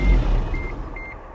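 A small truck's reversing alarm beeps loudly and repeatedly in an even rhythm over the low rumble of its idling engine, close by.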